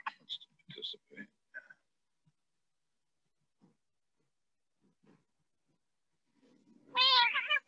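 A pet cat gives one loud, clear meow near the close, standing alone after scattered quiet sounds and faint indoor knocks in an otherwise silent room.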